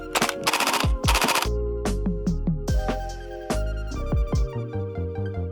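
A KWA AKG 74M gas blowback airsoft rifle fires BBs in loud, close bursts of rapid cracking shots, then a string of sharper single shots and short doubles with ringing mechanical clatter between them.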